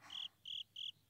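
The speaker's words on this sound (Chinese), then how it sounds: "蟋蟀，只听得到声音却看不到。" A hidden cricket chirps three times in an even rhythm, each chirp a bright, steady trill lasting a fraction of a second with short gaps between, clear and fairly close over quiet background.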